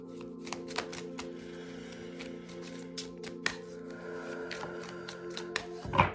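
Tarot cards shuffled by hand in a quiet room, a run of soft papery riffles and light taps with sharper flicks now and then, steady and close, over a faint constant hum with no talking.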